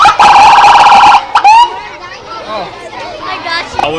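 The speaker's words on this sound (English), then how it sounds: "So this is siren, right?" A loud, harmonically rich police motorcycle siren wails for about a second, then cuts off; bright warbling tones and faint chatter follow.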